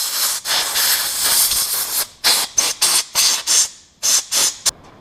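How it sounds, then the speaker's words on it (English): Compressed air blasting gunk and debris off a smoking Craftsman lawn tractor, first a long loud continuous hiss and then a string of sharp short bursts, close and alone without talk. "I'm going to clean up this thing really good with air."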